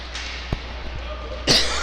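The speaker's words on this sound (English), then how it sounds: "Excuse me with the cough." A sharp single cough from a commentator at a junior varsity high school hockey game between Prior Lake and Minnetonka, followed by a louder, rougher burst, over steady ice-rink background noise.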